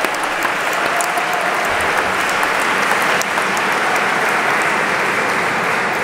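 A large audience at a College of Europe ceremony gives loud, sustained applause for the college band, a dense, even wash of clapping that holds steady throughout.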